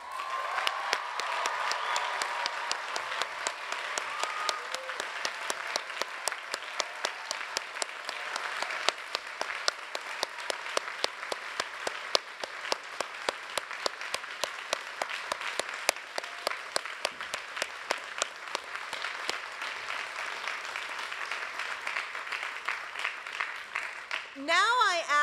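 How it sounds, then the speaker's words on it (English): Sustained audience applause at a university graduation ceremony as graduating students' families stand, a long dense wash of clapping with scattered sharp claps, with faint voices mixed in near the end. "it's your turn to stand and be applauded"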